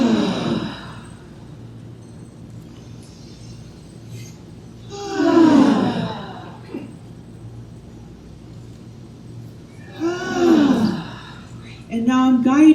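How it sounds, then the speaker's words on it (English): Slow, deep breaths drawn in and released during a guided meditation, three soft breathy swells spaced a few seconds apart over a quiet room hum. "let's take an inhale in"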